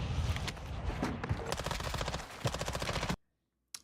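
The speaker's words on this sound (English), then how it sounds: "You are taking effective fire." First-person shooter video game gunfire: loud, rapid automatic bursts close up, with dense cracking shots for about three seconds, then a sudden cutoff and one last short burst.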